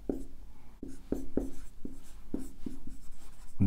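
Writing strokes during a Hindi-language lecture on agricultural marketing law: a close, steady series of short scratchy taps and scrapes, roughly two per second, heard alone with no talking.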